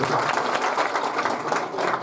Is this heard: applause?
yes